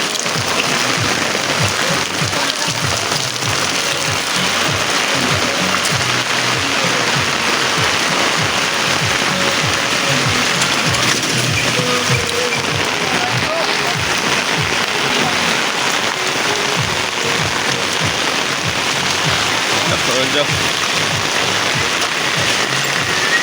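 Steady rain falls over a city market on a wet day, a dense, continuous patter filling the whole stretch at even, loud volume, with no clear voices standing out.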